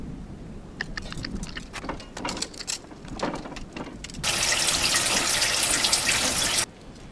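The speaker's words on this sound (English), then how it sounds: "This tap seems to be working." In the video game Still Life 2, water gushes from a tap in a loud, steady hiss for a few seconds, then stops abruptly, after scattered clicks and small clanks.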